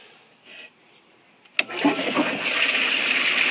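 Small water pump starting up in a stream and feeding water through a Khrysos vortex gold sluice prototype, a sudden start followed by a steady rushing flow and motor hum.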